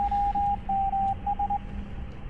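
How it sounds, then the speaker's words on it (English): In the video game Escape the Backrooms, a steady pure tone beeps out Morse code in long and short pulses, clear and loud over a low electronic hum. "we're supposed to use it and send Morse code"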